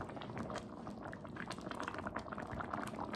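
Shrimp and grits sauce simmers at about 150 degrees in a pan, giving a continuous thick bubbling and popping, soft and close, with no voices.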